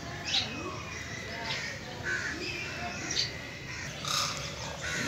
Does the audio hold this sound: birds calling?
yes